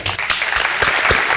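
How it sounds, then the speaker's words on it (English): A room of chamber of commerce members at a monthly breakfast meeting gives newly joined members a collective round of applause, steady dense clapping throughout with no talking. "we'll ask y'all to stand real quick so we can give y'all a collective round of applause"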